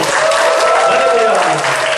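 A church congregation claps loudly as Pastor Heo Jae-beom comes forward to preach, a dense, steady wash of applause that holds for the full two seconds.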